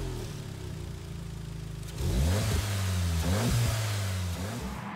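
A Volkswagen GTI in Gran Turismo Sport, its engine idling steadily before revving up hard at about two seconds, then holding at high revs with repeated rises and dips in pitch, loud and close with no talk.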